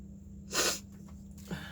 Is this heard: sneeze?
yes